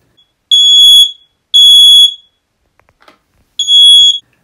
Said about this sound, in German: bis dann die Rauchmelder sich gemeldet haben und Alarm